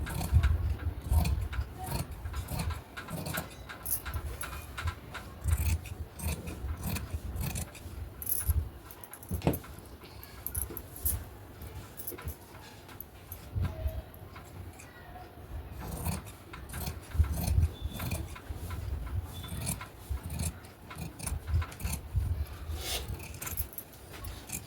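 Scissors crunch through two stacked layers of blouse fabric and lining while the back panel of a katori blouse is cut, a steady run of close snips and rubbing against the cutting surface.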